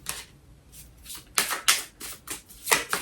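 Tarot cards being shuffled by hand: a run of crisp, riffling bursts that come closer and louder after the first second, arriving in uneven strokes with brief gaps between them, no one talking.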